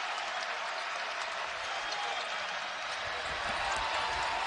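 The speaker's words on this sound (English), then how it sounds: "The crowd is into it." A basketball arena crowd at a Cincinnati versus UConn college game cheers and applauds in a steady, loud roar that fills the whole moment, with scattered shouts rising out of the broad wash of noise.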